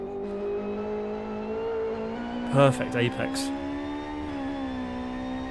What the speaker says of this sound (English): you can hear there as he puts the power down that he too is struggling with some sort of clutch temperature issue